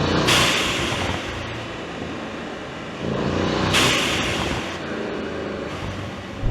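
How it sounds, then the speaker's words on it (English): An upgraded AMG car engine revs hard with a loud, sharp blow-off valve release, two broad hissing bursts near the start and midway over a steady, close engine roar. "That blow off is really cool. Much more pronounced than the standard car."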